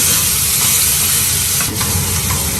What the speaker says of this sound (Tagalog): Lagay ko na itong alamang tagtag. Ayan. Haluin ko lang.